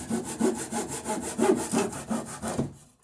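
Hand saw cutting through pine in rhythmic push-pull strokes, about nine close raspy passes over three seconds, loud and near, with no talking, ending in a quiet stop.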